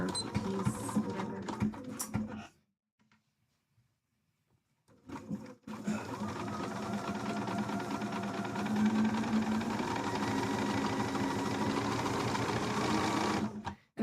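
A sewing machine runs a straight stitch along a cosplay costume seam, a loud steady mechanical whir with a short burst, a pause of near silence, then a long continuous run close by.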